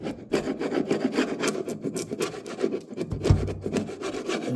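Steady rhythmic scraping of old paint from a wooden storm window, a rasping back-and-forth stroke repeated close by, with one sharper knock partway through.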